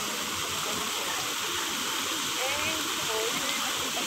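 Fountain water splashes steadily at Marina Barrage in Singapore, where children bathe in the spray; a continuous broadband rush with faint voices in the background.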